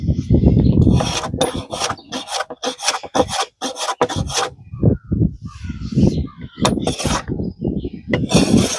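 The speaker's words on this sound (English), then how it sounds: "all I'm doing right now is planing off the pencil marks" A hand plane shaving across a black oak slab to remove pencil marks, a series of rasping wooden strokes in quick bursts, some short and some longer, close and fairly loud.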